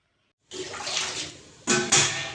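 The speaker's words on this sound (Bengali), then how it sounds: "ওল কেটে ধোয়া হচ্ছে, আর এখানে উলগুলোকে ধুয়ে বয়েল করা হবে।" Cut pieces of yam are washed in water in a kitchen: a gush of splashing and running water starts abruptly, eases off, then two sharp, louder pours follow near the end, close and alone.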